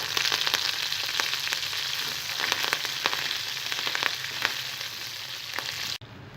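Spices, red chillies, garlic and curry leaves frying in hot oil for tempering, a continuous close crackling sizzle with sharp pops scattered throughout, ending abruptly near the end.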